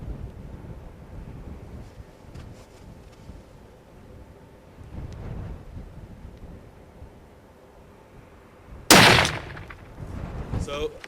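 A single sharp rifle shot cracks loudly at a target outdoors near the end, following a stretch of quiet wind-buffeted ambience and faint movement.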